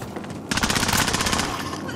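Automatic gunfire in a video game with a gas-closing battle-royale setting, a quiet stretch then a sudden dense burst of rapid shots that stays loud and continuous to the end.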